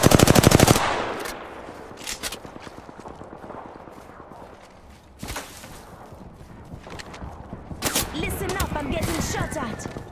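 Gunfire in the Apex Legends battle royale game: a sharp opening burst, then scattered shots and rapid volleys over several seconds, mixed with footsteps and game effects.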